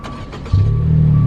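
A truck engine with a straight-pipe, cat-delete exhaust idles with a low rumble, then swells abruptly into a louder, deeper steady drone, close by.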